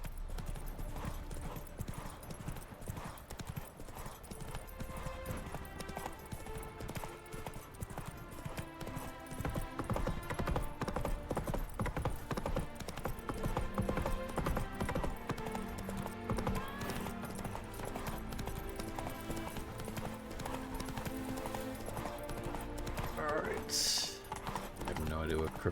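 Horse hooves clip-clop steadily in The Witcher 3, a continuous rhythmic trot running under game music and spoken dialogue, with a brief whinny partway through.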